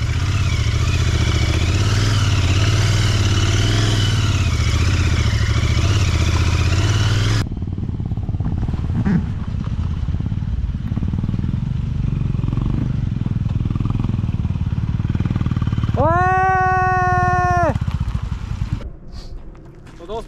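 Royal Enfield Interceptor motorcycle riding a rocky off-road trail in the Aravali hills near Gurugram, its engine a steady close rumble throughout, loud at first and then lower with clattering from the rough ground.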